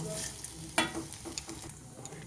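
Soybean chunks fry in a pan at home, giving a soft, continuous sizzle with scattered light clicks and stirring scrapes, fairly quiet and close with no voices.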